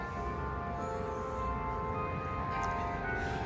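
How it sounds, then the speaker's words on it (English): A bell rings out across the streets of Jim Thorpe, a small Pennsylvania town, heard as a steady sustained tone with lingering overtones beneath constant outdoor ambience, no talking. "y'all hear that bell? That bell is kind of creepy now."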